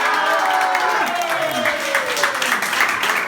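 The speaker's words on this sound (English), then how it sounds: "how about a round of applause?" A live audience breaks into applause at a holiday beach broadcast, a steady, full wash of clapping with some cheering mixed in that holds at an even loudness for a few seconds.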